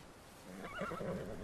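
A horse in Kingdom Come: Deliverance 2 whinnies over a steady background hum, the call rising and wavering for about a second before fading.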